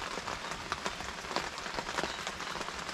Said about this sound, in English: There's nothing quite like the real sound of rain.